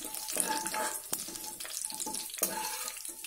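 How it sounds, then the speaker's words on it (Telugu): Spices tempering in hot oil for a ridge gourd and groundnut curry, a steady soft crackling sizzle with small pops, close and fairly quiet, with no voices. "పోపులు వేగుతున్నాయి."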